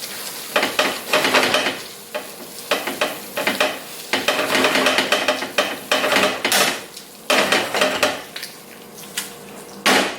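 Spaghetti in tomato sauce tossed in a pan, loud repeated scraping, clattering and wet slapping in uneven bursts with soft sizzling between.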